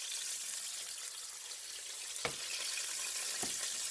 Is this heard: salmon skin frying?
yes